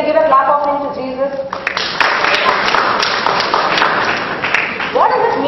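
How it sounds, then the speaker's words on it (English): Children in a church service clap together as an offering: after a brief spoken voice, dense, steady clapping from many small hands fills the rest of the moment, close and lively. "All children, can you give a clap offering to Jesus?"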